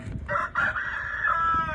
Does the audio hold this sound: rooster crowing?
yes